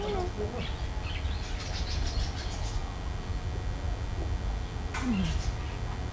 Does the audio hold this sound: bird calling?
yes